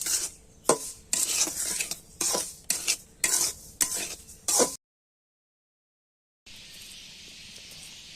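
Beef cooking in a pot stirred with a metal spoon: a run of rhythmic scraping strokes over a low sizzle, then a gap of silence before a steady hiss of cooking returns, with no talk.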